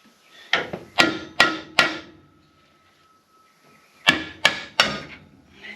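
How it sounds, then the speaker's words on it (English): Hammer striking a stuck rear brake part on a Dana 70 axle of a 1971 Ford F350 dually during a disc brake install, two sets of three sharp metallic taps separated by a pause, close and loud. "Now it's stuck, so just come in with a hammer."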